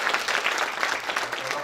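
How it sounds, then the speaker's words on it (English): A short burst of audience applause at a civil engagement and social cohesion dialogue event, with lively, uneven clapping throughout and no speech. "But please, if you could give them also a round of applause."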